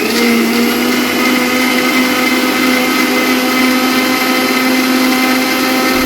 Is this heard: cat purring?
no